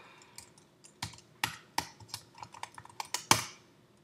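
Typing on a computer keyboard, a quiet run of close, sharp key clicks at an irregular pace, some keys struck harder than others, with no voices.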